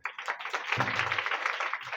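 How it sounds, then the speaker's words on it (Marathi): An audience at a devotional abhang kirtan gathering breaks into applause, a soft, spread-out patter of many hands clapping together for about two seconds, somewhat distant. "सगळ्याजण एकदा टाळ्या वाजवा बरं"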